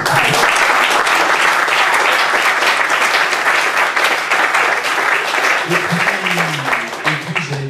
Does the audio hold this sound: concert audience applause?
yes